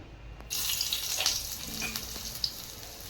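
Garlic and ginger tempering frying in hot oil for a goat head curry, a soft hiss that begins suddenly after a quiet start and then sizzles on at low volume.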